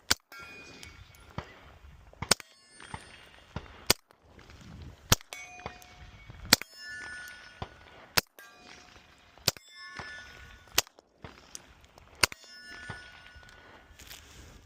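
Suppressed rifle shots through a JK Armament 105 CCX suppressor firing 124 grain Blazer ammunition, about ten sharp metallic cracks spaced a second or so apart, with quiet handling noise between them.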